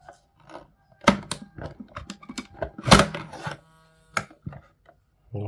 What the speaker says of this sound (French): Donc on appuie ici pour sortir le jeu.